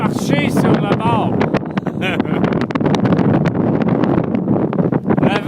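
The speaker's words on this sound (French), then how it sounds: "Le vent est environ de 70 à 80 km/h." Strong mountain wind at around 70 to 80 km/h near 8500 feet on the Skyline Trail buffets the microphone in loud, continuous roaring gusts, with a person talking over it throughout.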